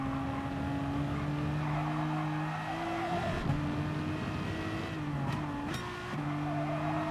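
A car drifts in Gran Turismo Sport at the Red Bull Ring with a steady engine drone and long skidding tyre squeal, the pitch shifting as the throttle changes, heard fairly faint and continuous.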